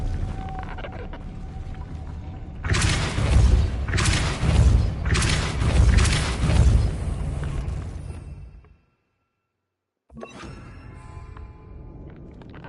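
A Depulso spell cast in the Hogwarts Legacy video game lands as a loud, rumbling burst of booming thuds lasting several seconds, then cuts to silence before quieter game sounds return.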